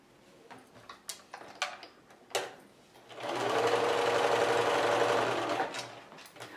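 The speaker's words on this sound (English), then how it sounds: "So I'm going to sew a couple more of these for you" A few light clicks and taps lead into a sewing machine joining fabric strips for a quilting roll, which runs in one steady, loud, close burst for about three seconds before winding down.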